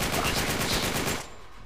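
Rapid automatic gunfire from the video game Uncharted 3: Drake's Deception rattles in a dense burst for about a second, then cuts off abruptly into quieter background.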